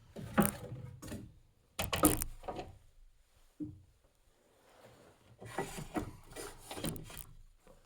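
Handsaw cutting a piece of wood for a nailed-in column brace, several short rasping strokes in bursts with pauses between, close and moderately loud.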